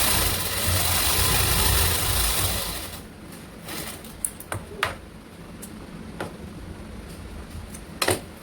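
Sewing machine stitching a straight seam on a blouse, a steady mechanical whir for about three seconds that stops, followed by quieter handling clicks and a few sharp taps.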